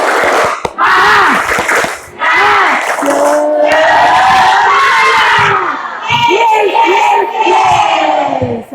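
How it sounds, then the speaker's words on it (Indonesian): A class of schoolchildren loudly chants the tepuk semangat clapping cheer in unison, with shouted rhythmic calls and sharp claps that fill the room and continue throughout. "yuk kita semboyankan yel-yel kita, yaitu tepuk semangat untuk menambah konsentrasi dan semangat belajar kalian"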